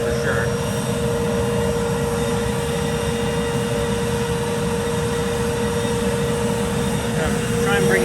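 A large homemade foundry furnace burner roars with a steady, loud, broadband rush and a faint constant tone, heard close up and unchanging throughout, with a voice talking over it.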